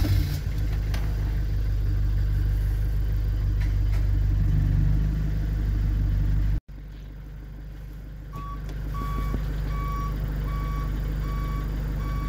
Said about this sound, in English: Okay, it's a cold start.